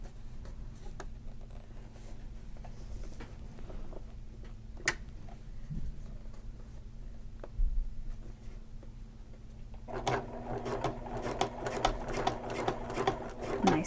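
A sewing machine stitches around the outside of a vinyl shoulder bag, starting with sparse ticks and clicks and then running in a loud, fast burst near the end.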